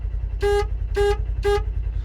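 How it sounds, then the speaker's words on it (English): A compact aftermarket horn from a WD Electronics kit, fitted to an Expedition snowmobile, gives three short, evenly spaced honks with a bright, thin car-horn tone, loud and close over a low steady rumble. "It's not super dramatic, just sounds like a little car horn."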